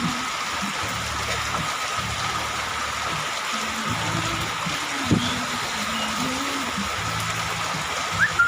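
Heavy rain pours down in a steady, dense wash, with a low engine hum beneath it and no speech.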